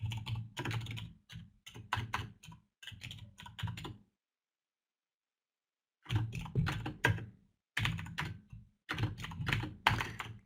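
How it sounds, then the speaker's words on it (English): Fast typing on a computer keyboard comes in bursts of crisp, close key clatter, broken by a few seconds of silence before the tapping resumes just as busily. "I'm typing because Martin was talking"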